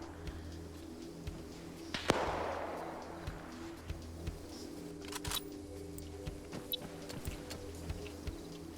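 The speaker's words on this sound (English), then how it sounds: "Oh, more shots going out." Gunfire in a 40-player British versus Germans one-life team deathmatch battle game: a sharp single shot, then scattered distant pops and cracks over steady low battlefield rumble.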